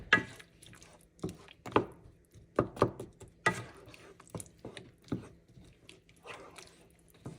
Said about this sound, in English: I'm gonna mix all this together